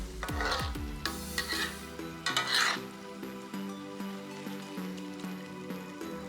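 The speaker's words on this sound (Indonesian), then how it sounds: "lanjutkan diaduk kembali hingga telur bercampur rata dengan bahan yang" A utensil stirs and scrapes fried rice vermicelli with egg, chicken and shrimp in a sizzling pan, with a few loud clanks early on, then steady frying sizzle and soft scraping under a light musical backdrop.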